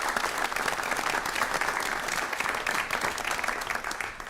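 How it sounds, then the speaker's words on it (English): An audience at a city council meeting breaks into steady, sustained applause, a dense wash of hand claps from a roomful of people lasting a few seconds before starting to fade. "I think that deserves a round of applause."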